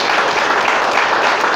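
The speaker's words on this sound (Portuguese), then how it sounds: "Pode aplaudir, glorificar o Senhor." Church congregation applauding together during a worship service, a steady, dense wash of many hands clapping at close range with no pauses.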